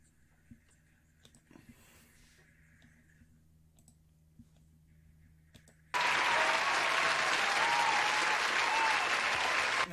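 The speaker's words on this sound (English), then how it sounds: "A round of applause" Applause at a UFC fight event on ABC, a dense crowd clapping that bursts in suddenly and stays loud, after quiet clicking and faint background sounds.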